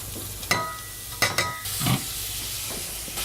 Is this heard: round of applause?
no